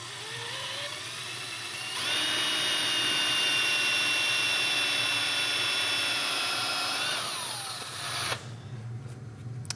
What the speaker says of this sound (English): I should be able to just drill and tap straight into this